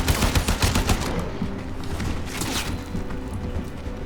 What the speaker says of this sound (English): now we can just kind of mow dudes down with our very serviceable machine gun